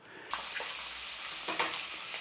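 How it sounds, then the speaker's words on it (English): Chicken skin sizzles and renders its fat in a pan, a steady broadband frying hiss with a few brief crackles and pops, close and continuous with no talking. "All we've got to do is just get that skin in there, and that skin will start to render down, and this pan will fill up with oil."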